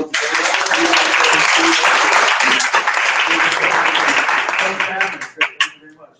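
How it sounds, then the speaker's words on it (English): Applause breaks out at a Toastmasters meeting of young professional entrepreneurs, loud and sustained from a small room audience, with voices mixed in, before thinning into a few last claps near the end. "let's get Eric Shoulder a hand of applause"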